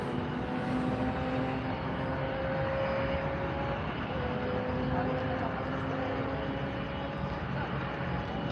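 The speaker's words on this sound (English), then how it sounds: "Here comes a DHL 767." A DHL Boeing 767 cargo jet at Miami airport gives off a steady, loud engine roar and whine that holds evenly throughout, with no breaks.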